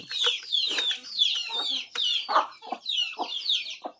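Country chickens cluck in a steady run of short, overlapping calls close by, with several birds chattering over one another throughout.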